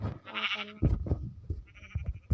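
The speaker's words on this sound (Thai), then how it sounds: "อ๋อนึกว่าแกะออกมา" Sheep in the video game Minecraft give a few short wavering bleats in quick succession, near and clear, with other game sounds between them.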